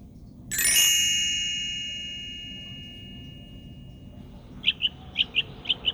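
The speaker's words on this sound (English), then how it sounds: "a flock of birds gathered in the treetops" A bright chime rings out and slowly fades, then a quick run of short, high chirps from a flock of birds in treetops starts up nearby.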